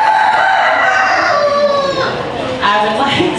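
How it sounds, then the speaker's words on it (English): A rooster crows loudly and close by at a rabbit show, one long drawn-out crow followed by a second rising call, with a voice faintly underneath. "your rooster drives me crazy"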